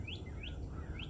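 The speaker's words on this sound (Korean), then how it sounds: "여기 애기새가 떨어졌어요" A fledgling bird that has fallen in a summer garden chirps three times, thin rising tweets evenly spaced over about a second, faint against a low outdoor rumble.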